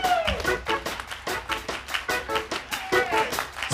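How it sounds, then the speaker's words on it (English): A church congregation at a revival night claps hands in a steady, loud, driving rhythm, with sung or shouted voices and music-like tones running through the beat. "Clap your hands."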